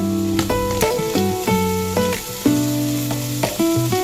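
Carrot rice ingredients stir-fried with a little soy sauce, giving a steady sizzle and frying hiss with some stirring, partly masked by melodic background music that runs throughout.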